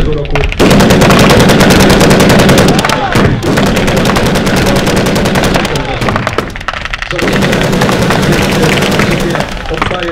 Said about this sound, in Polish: Kilka strzałów w stronę stanowisk niemieckich